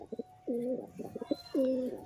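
Local Giribaz pigeons coo up close in two drawn-out, throaty calls, each preceded by short soft grunting notes, with a quiet background.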